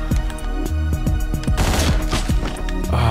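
Rapid gunshots ring out in the top-down action game Hotline Miami. The volley of sharp, loud bangs comes close together, with game music pulsing underneath.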